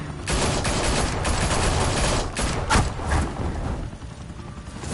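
Sustained gunfire in the Batman Telltale video game, a dense continuous volley of loud rapid shots with one sharper crack standing out near the middle.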